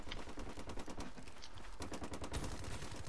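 Rapid automatic gunfire in the video game Black Ops 3, sustained bursts of shots rattling continuously over game background noise, loud and close, with no talking.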